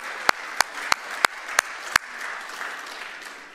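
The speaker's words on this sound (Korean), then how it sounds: "한번 박수 쳐주세요" A church congregation claps in a few sharp, loud, evenly spaced beats, then settles into softer scattered applause and murmur from the gathered crowd.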